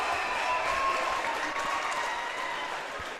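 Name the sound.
loud crowd cheering at volleyball match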